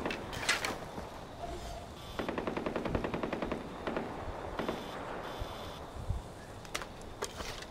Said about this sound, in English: I need to kill sambars, and these people are shooting and scaring them away.